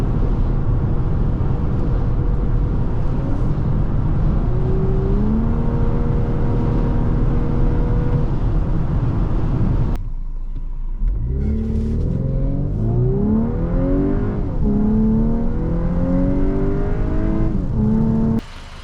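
A 2024 Volkswagen Atlas Cross Sport SEL Premium R-Line SUV drives along a road, its engine droning steadily with rising and falling revs through gear changes, accompanied by continuous road and wind noise from inside the cabin.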